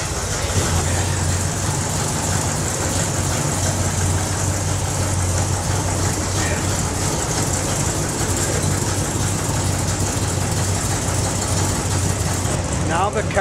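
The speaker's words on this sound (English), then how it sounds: "It should start right up for us." An engine fitted with MSD ignition runs at a steady idle, a loud continuous low rumble with a constant noisy wash on top, filling the whole stretch.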